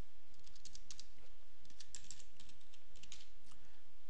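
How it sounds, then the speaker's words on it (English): Fingers type on a computer keyboard, entering an address in quick irregular bursts of soft clicky keystrokes, close and fairly quiet, with no voices. "let's type in here address"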